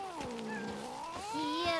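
A cat in Witcher 3: Wild Hunt gives several drawn-out, wavering meows in quick succession, close and fairly clear, the last ones rising and bending in pitch.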